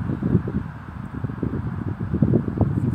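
Wind blowing outdoors during a light-wind test of a homemade kite, a steady low rumbling buffeting against the microphone that keeps up throughout, with no talking.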